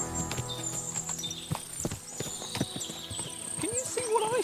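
Horses in the video game Kingdom Come: Deliverance II, with a busy clatter of hooves clip-clopping, snorts and a whinny close by, over ambient noise and a voice speaking.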